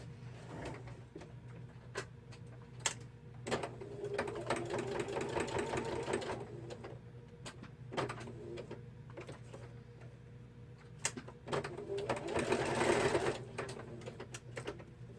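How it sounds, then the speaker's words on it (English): A sewing machine stitching through a paper card, close and moderately loud, running in steady whirring bursts between short pauses and clicks. "I'll give that a quick stitch."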